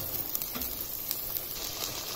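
Masala for Punjabi-style rajma fries in a pan, giving a steady, soft sizzle with faint crackles and spatters throughout, close and fairly quiet with no talking.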